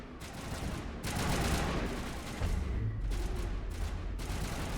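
Dense, sustained gunfire in a Mass Effect 1 firefight, heavy overlapping bursts and booming impacts filling the whole stretch at steady loudness, with no voices over it.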